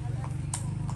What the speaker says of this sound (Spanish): Paseos a caballo también aquí, mi gente.